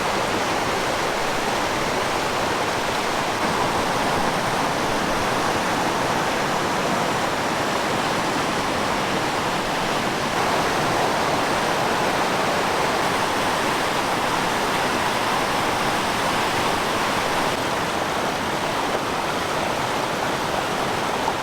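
River water cascading down smooth rock slides into small pools, a constant loud rushing roar from close by with no voices or pauses.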